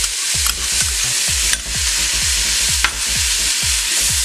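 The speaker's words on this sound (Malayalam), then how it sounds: "തക്കാളി നല്ലപോലെ വെന്ത് വരുന്നിടം വരെ വഴറ്റി കൊടുക്കണം." Chopped tomatoes sauté in chili powder masala with a loud, steady sizzle and regular rhythmic scraping strokes of a spatula, close up.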